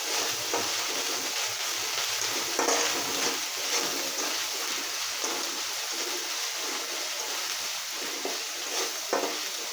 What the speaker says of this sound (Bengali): দিয়ে একটু ভেজে নিলাম আদা